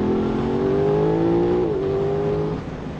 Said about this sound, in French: le bruit de l'échappement est bien présent